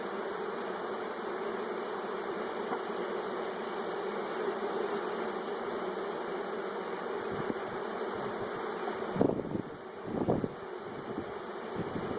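Honey bees from a package being installed into a hive drone in a dense, continuous buzz, with a few soft knocks and scrapes of hive frames near the end.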